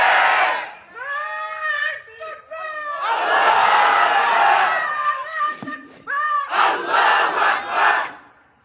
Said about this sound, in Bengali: যদি দেন ওমরের মতো তাকবীর দিবেন, খালিদ বিন ওয়ালিদের মতো তাকবীর দিবেন